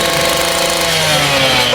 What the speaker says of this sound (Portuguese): De volta à ação com a serra Steel.